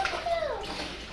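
Water is poured into a cooking pot to boil Kona crab claws while fishing on the Hilo bayfront in Hawaii, a short close splashing pour that fades after about a second.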